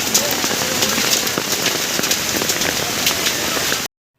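Heavy rain falling on Saraswati Puja day, a dense, steady patter of drops striking surfaces nearby, loud and continuous until it cuts off abruptly near the end.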